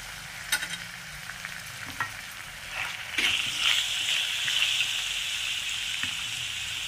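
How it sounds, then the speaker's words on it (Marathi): Garam masala sautéed with turmeric and spices as the base for a boi fish curry, crackling softly at first, then the sizzle swells into a steady hiss with light stirring clicks. "हा गरम मसाला चांगलं परतवून घेत आहे।"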